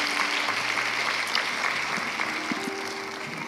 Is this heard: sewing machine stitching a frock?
no